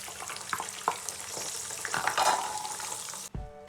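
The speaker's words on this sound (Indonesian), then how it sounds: "Goreng petainya sebentar aja ya teman-teman." Petai beans frying in hot oil for a Padang-style dendeng balado, giving a steady close sizzle with scattered pops and crackles that cuts off abruptly near the end.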